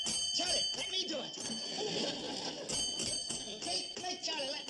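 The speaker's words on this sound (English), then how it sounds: "Kate, Charlie, let me ring the bell" A bell rung repeatedly in a rural comedy scene, bright ringing strikes in quick succession that carry loudly under and between overlapping voices.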